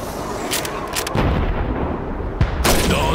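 Gunfire in the World War II video game Call of Duty 2, several loud rifle shots and booming reports cracking over a dense battle background.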